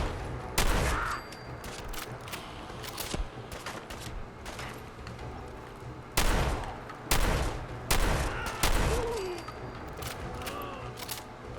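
Combat sniper rifle shots ring out in Fallout 4, a series of sharp, loud cracks spaced irregularly across the stretch, some doubled, over a low ambient background.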